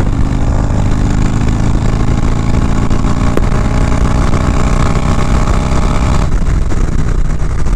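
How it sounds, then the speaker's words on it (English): A motorcycle at highway speed gives a loud, steady engine drone mixed with heavy wind rush, which continues unbroken and then eases slightly near the end. "This bike has no problems doing ridiculous highway speeds either."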